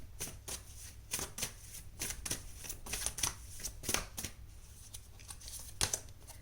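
Tarot cards being shuffled in a Hindi reading: a steady run of quick, crisp riffling snaps and flutters, close and fairly quiet, with no speech over it.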